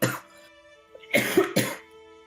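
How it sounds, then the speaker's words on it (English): Several harsh coughs come close to the microphone in a short cluster: one burst, a pause, then two or three more in quick succession over a faint background hum. "Oh man, I'm fucking coughing."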